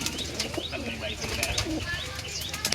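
Pigeons for sale kept together in an enclosure, with wings flapping in bursts, soft cooing and faint chirps close by, over a background of faint talk and ambient noise.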